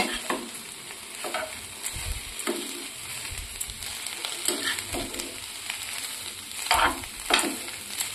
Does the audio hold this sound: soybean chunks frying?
yes